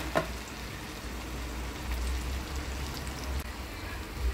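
Malpua batter frying in a pan, a steady low sizzle and crackle of hot oil that holds evenly throughout with a few small pops, no voices.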